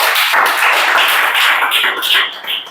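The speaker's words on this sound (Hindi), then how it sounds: "ताली बजाओ जी कर पा।" A classroom group claps hands together in a dense, continuous patter of applause that tapers off near the end.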